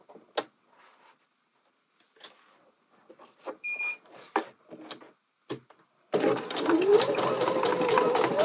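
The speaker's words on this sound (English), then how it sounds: "stitch across to connect the bias tape together" After a few seconds of scattered handling clicks and taps, a sewing machine starts up and stitches across bias tape in a steady, close, continuous whir that runs to the end.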